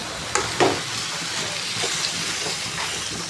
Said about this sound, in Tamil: முருங்கைக்காய் சிக்கன் எல்லாம் போட்டுட்டேன் இப்போ நல்லா வதங்கட்டும்